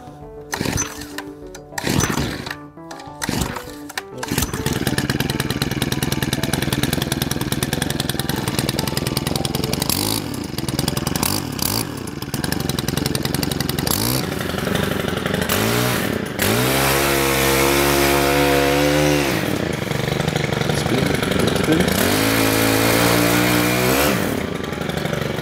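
A Stihl KB-KM power broom is pulled a few times on half choke, then its small two-stroke engine catches and runs steadily, buzzing loudly with several revving surges and drops close by.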